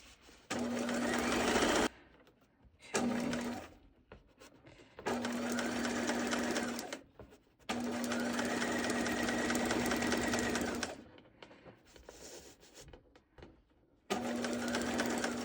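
A sewing machine stitching fabric for a baby outfit runs in several bursts of steady mechanical whirring, each several seconds long, separated by short pauses.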